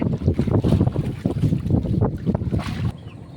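A fishing boat's motor chugs and rumbles under heavy wind buffeting on the microphone at sea in the Philippines, loud and close, then the noise drops off near the end.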